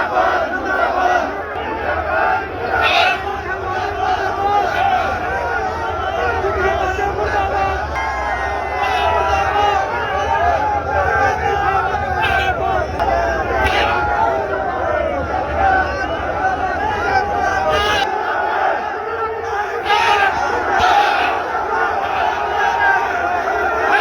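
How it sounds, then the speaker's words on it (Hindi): A large crowd of employees chants a protest slogan against a politician, a loud, continuous mass of voices with rhythmic shouted bursts that goes on throughout. "अनिल विज साहब वहां पहुंचते उससे पहले नारे लग रहे थे अनिल विज मुर्दाबाद"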